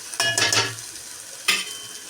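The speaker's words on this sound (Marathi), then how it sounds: "हे आपण मसाला अशा प्रकारे परतून घेणार आहोत" Masala being stir-fried with onion bhaji in a pan for a hotel-style curry, giving two short bursts of scraping and sizzling with a quiet pause between, close and with no talk.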